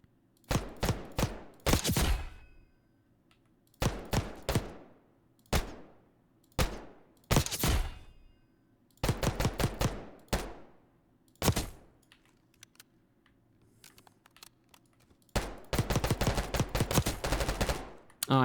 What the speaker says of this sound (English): let's try it without a barrel, and let's see what it gives me